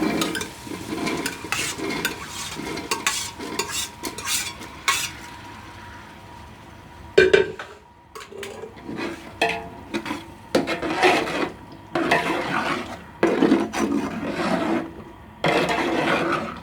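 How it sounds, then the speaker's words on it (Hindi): Boiled white chickpeas tipped into a pot of chana pulao and stirred, with repeated scraping and rubbing strokes of a spoon against the pot, clear and close, pausing briefly midway before the stirring resumes. "इसमें डालेंगे हम अब सफ़ेद चने अपने।"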